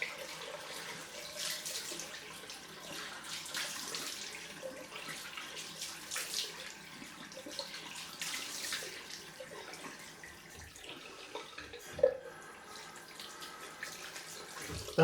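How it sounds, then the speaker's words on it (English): Cold water runs from a tap for a rinse after a head shave, a steady, soft splashing hiss that continues throughout with light spatters and a couple of brief knocks near the end. "Let's do the cold rinse."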